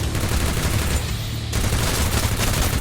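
Continuous dense gunfire from the mobile shooter Free Fire, rapid automatic bursts rattling loudly and steadily throughout with only a brief thinner moment midway, no voices over it.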